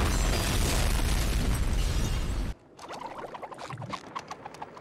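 A loud, roaring cartoon explosion fills the first half, then cuts off abruptly, leaving scattered crackling pops and debris-like clatter.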